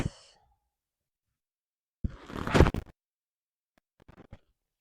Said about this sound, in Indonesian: Buang nafas.